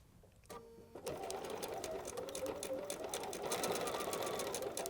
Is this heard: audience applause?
no